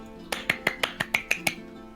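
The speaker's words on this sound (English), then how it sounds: "There was clapping." Eight sharp claps in a quick, even rhythm, close and crisp, with no talking.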